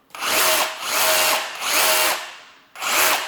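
A Ridgid R86712B SDS rotary hammer drill running in chisel mode gives four loud, close bursts of rapid hammering, each lasting about half a second to a second, separated by brief pauses.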